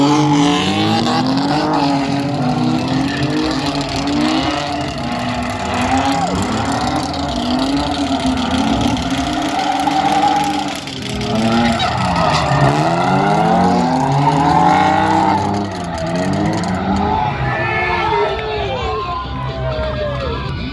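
At an outdoor drift competition, drift cars roar and rev hard as they launch, with engine pitch sweeping up and down and tires squealing, loud and close over a crowd and occasional talk.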